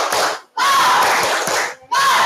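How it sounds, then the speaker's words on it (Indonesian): A classroom of students does a spirited rhythmic clapping chant, loud massed voices and hands in two energetic bursts separated by a brief pause. "Supaya lebih semangat lagi, tepuk semangat dulu."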